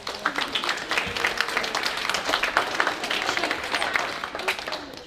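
A school assembly audience claps steadily throughout, a dense, lively round of applause that stays even from start to finish.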